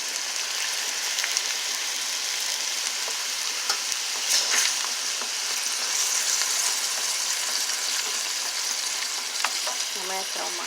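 Tomato paste and tomato sauce sizzling in a pan with meat, a dense continuous frying crackle like light rain, close and steady, with a few stirring clatters near the end.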